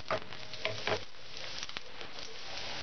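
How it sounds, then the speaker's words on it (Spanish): Garlic frying in oil in a pan for a pea rice dish, a soft crackling sizzle with a few brief clattering stirs near the start, quiet and close. "que dore ligeramente. Para que el aceite adquiera el sabor del ajo."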